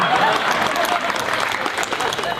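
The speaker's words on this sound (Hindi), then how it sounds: "तालियां तालियां।" Applause from the audience at a college freshers' party, a dense steady clatter of clapping throughout, fairly loud and close.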